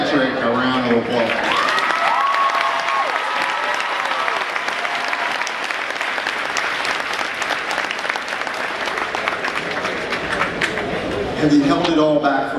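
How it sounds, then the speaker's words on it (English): A big crowd gives a valedictorian a long, loud round of applause, continuous clapping mixed with cheers and scattered voices, swelling again near the end. "Let's give Patrick a round of applause"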